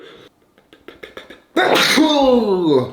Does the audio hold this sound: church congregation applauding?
no